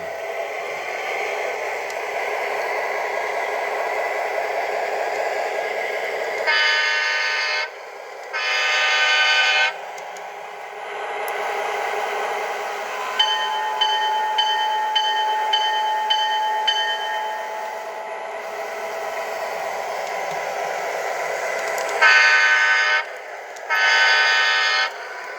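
Electronic Proto2/Proto3 sound system on a model train locomotive, a steady engine rumble overlaid with repeated horn blasts, including a longer horn sequence of rapid short toots, sounding close and alone.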